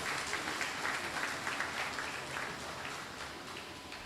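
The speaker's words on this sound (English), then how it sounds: "I ask you to give them all a round of applause." Applause from an audience at a United National Congress party award ceremony in Mayaro, a soft, distant, continuous patter of clapping that holds steady and tapers slightly.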